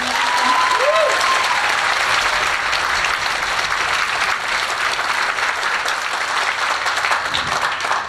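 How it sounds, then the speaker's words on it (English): Sustained, loud applause fills a high school 10th grade concert hall, a dense crowd clapping steadily with a brief voice audible near the start. "give them one more round of applause."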